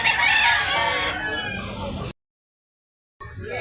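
A loud rooster crow rings out close by, a long strained call that trails off, followed by a sudden cut to silence and a brief return of noise.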